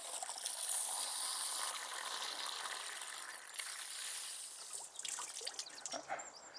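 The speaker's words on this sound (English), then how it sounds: "So you just fill that with water." Water pours steadily into a container for banana peel garden fertiliser, with a bright, splashing hiss that thins into irregular trickles and drips near the end.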